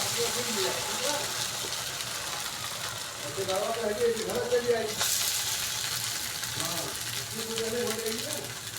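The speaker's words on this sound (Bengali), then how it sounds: "নারকোলটাকে ধৈর্য ধরে ভাজতে হবে" Grated coconut fries slowly in a pan with a soft, continuous sizzle, a brief louder burst midway, and faint voiced sounds now and then over it.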